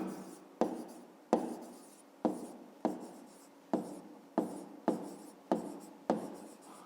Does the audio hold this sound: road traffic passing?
no